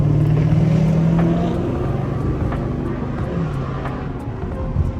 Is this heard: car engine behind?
yes